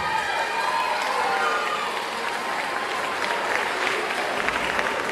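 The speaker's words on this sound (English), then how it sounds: "Give them a round of applause" Parents and families clap for fifth-grade students at a school promotion ceremony, a moderate crowd applause holding steady throughout, with faint murmuring voices mixed in.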